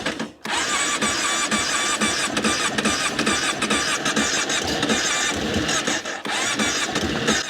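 A small engine cranks and sputters steadily while its carburetor is blocked off by hand to draw in fuel. The noise is loud, close and continuous, with a brief dip near the start.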